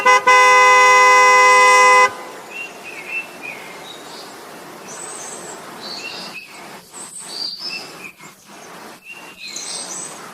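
Birds sing outdoors near a porch: scattered chirps and short whistled calls, some near and some farther off, after a loud, sustained car horn blast opens the scene.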